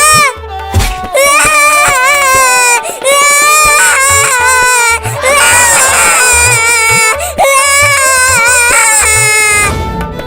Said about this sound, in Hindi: चल रोना बंद कर